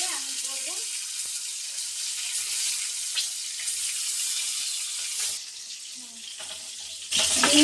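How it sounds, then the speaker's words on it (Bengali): Eggs coated in salt and turmeric sizzle and crackle in a hot kadai, a steady hiss with small spits and a louder burst near the end, a brief voice at the start. "এখানে ডিমটা আমি নুন হলুদ দিয়ে মেখে কড়াইতে দিচ্ছি"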